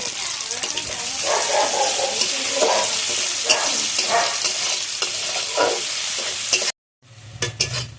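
Chopped onion and green chillies fry in oil with a loud, dense, close sizzle and stirring scrapes, cut off abruptly near the end before a brief quieter burst of sizzling resumes.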